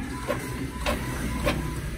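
An Epson L3210 inkjet printer runs off business cards, a steady mechanical whir with regular rhythmic clunks of the print head and paper feed, close and without talk.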